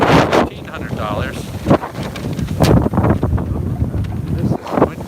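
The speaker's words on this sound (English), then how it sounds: "This is windy." Gusty wind buffets the microphone in loud rumbling bursts while a person speaks underneath.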